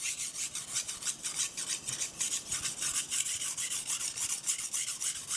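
A kitchen knife is sharpened on a sharpening stone, with close, steady scraping strokes repeating about two or three times a second throughout, alone and without talk.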